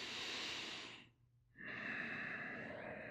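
Slow, steady breathing during a yoga class, one full inhale and exhale with a short pause between, close and soft with an airy rush.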